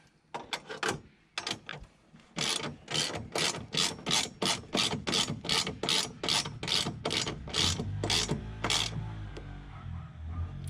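A ratchet clicks rapidly while tightening bolts on a BMW E46 drift car, a long even run of sharp metallic clicks, first a few scattered then about twenty in steady rhythm, close and fairly loud.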